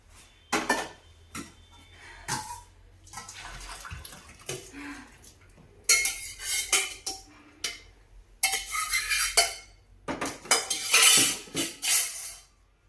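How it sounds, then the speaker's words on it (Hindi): Chickpeas from a pressure cooker are tipped into a metal pan, giving a run of clattering, sloshing bursts of pot and utensil noise, fairly close and loud, with brief pauses between pours and no talk. "और अब ये छोले पलट दूंगी इसमें।"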